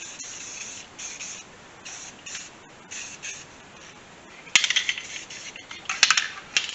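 Aerosol spray paint can hissing in several short bursts, then louder, closer sprays while coating a restored brake part on a K5 vehicle.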